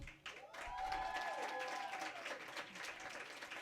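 Open mic night crowd at a music venue applauds for a performer, a sustained patter of many hands with cheering voices and whoops mixed in, moderately distant and continuous throughout.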